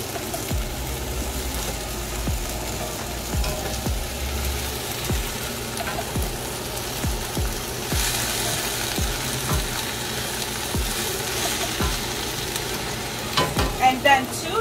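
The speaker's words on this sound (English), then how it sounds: "So I'm stirring this in with my wooden spoon." Bok choy sizzles and fries in a hot pan while a wooden spoon stirs it, giving repeated scraping knocks over a constant low frying hiss, with a few louder clatters near the end.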